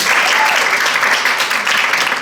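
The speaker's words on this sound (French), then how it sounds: "Oui, on peut l'applaudir aussi." Audience applause at a live stage show fills the whole stretch, a dense, loud, steady wash of many hands clapping.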